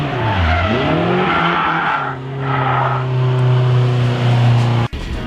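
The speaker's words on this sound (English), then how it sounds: "Let's see cars go sideways." Cars sliding sideways at a Drift Nirvana drifting event, engines revving loud and close with sweeping pitch changes and sustained tire squeal, the roar holding steady before cutting off abruptly near the end.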